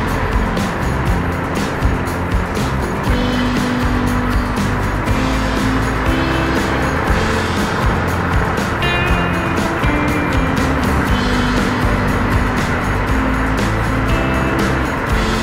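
A vehicle drives along a road in thick fog with a constant loud engine drone and road roar, steady and close throughout.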